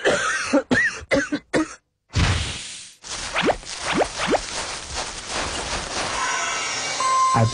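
Several sharp coughs in quick succession in a herbal cough remedy commercial, loud and close, then a brief silence and a stretch of whooshing effects and background music.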